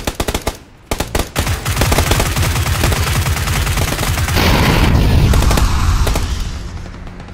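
Loud, sustained automatic gunfire in the video game PUBG: dense rapid volleys of shots with heavy booms, rolling on for several seconds after a few opening single shots.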